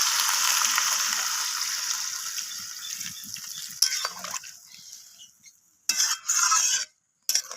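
Water poured into a pan of oil-releasing fried masala for a soybean and cauliflower curry sets off a loud, steady sizzle that fades away, then comes back in a few short bursts of hissing and clatter with gaps of silence between.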